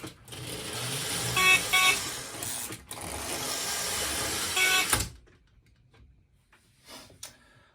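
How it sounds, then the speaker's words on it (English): Two small horns on Lionel postwar 616 and 617 NW-2 switcher toy locomotives blare together in a sustained, shrill tone, pausing once, then cut off, leaving quiet with a couple of faint clicks. "Can't wait to see what both horns sound like together."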